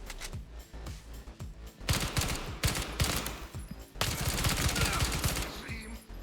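Rapid bursts of automatic gunfire from a heavy-recoil weapon in Incursion: Red River, sharp repeated shots in dense fusillades, loud and close, with a brief pause between volleys.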